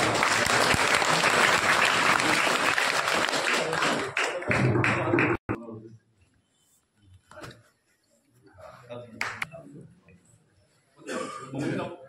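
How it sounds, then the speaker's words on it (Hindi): Loud, dense audience applause at an award ceremony honouring a poet on his death anniversary, breaking off after about five seconds, followed by a few coughs, scattered sounds and faint talk. "एक बार जोरदार तालियां बजा।"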